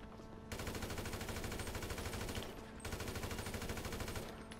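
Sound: SMG gunfire in the video game GTA 5 Online

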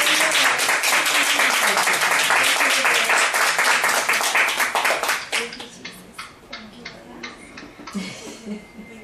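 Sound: group hand clapping at a Bible study

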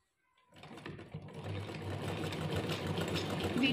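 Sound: sewing machine stitching lace onto fabric

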